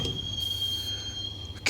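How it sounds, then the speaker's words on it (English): Steady low rumble of a subway train riding through a tunnel in the Max Payne video game, with a thin high whine held throughout and a brief sharper burst near the end. "the train doors had already shut behind me, and I was in for the ride"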